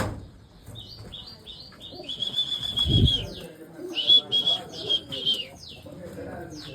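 Pigeons flutter and coo nearby, with wing flaps and soft chirps over a low background rumble.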